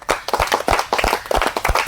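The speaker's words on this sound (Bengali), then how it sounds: "আমার দর্শক বন্ধু তার জন্য হাততালি" Audience applause for a contestant at a televised candle-blowing game show, a burst of brisk, uneven hand claps from a small crowd, close and loud, continuing steadily for the whole moment with no one speaking.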